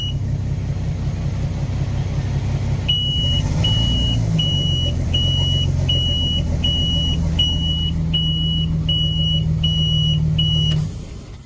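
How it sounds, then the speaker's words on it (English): A Volvo Penta 200 V6 marine engine idles with a steady rumble while its temperature alarm beeps in an even, repeating pattern of about a dozen high tones, then the engine and alarm cut off together near the end. "All right, trying to troubleshoot this alarm."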